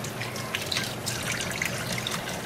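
Water trickles and splashes steadily over a six-week-old Aussiedoodle puppy being rinsed in a bath, a continuous close wash with no talk.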